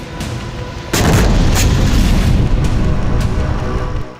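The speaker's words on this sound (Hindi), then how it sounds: "वेस्ट बैंक के कई इलाकों पर एयर स्ट्राइक की जा रही है" Heavy explosions from Israeli air strikes in the West Bank, a loud sustained rumbling blast that swells sharply after a second and rolls on with crackling bursts, no voices.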